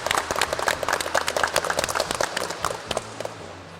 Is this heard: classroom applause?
yes